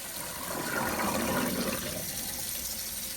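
Water gurgles and rushes steadily down a sink drain after unclogging with dish soap, a continuous close swirling flow with no voices.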